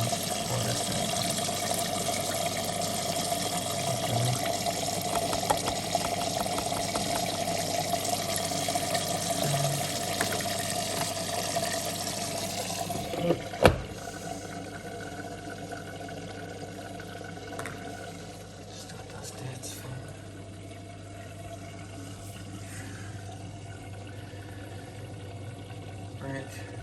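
Water running into a Miele W1 washing machine filling for a bedding wash, a steady hiss and trickle that grows quieter after a knock partway through.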